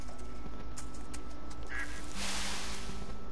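Ducks quack in the farming video game Farm Together, a few short nasal calls over a steady background hum, fairly close and clear with no talking.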